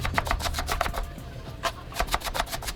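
A knife chops onions finely on a cutting board in a fast, irregular string of crisp close taps, loud and steady, with no talk over it.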